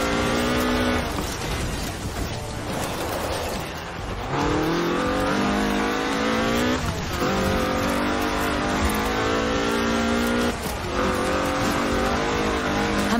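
A Ford RS 1800 rally car with a fuel-injected 1790cc Cosworth BDE engine, driven in Forza Horizon 4, revs hard and accelerates through repeated gear shifts, its loud engine note rising and dropping continuously without talk.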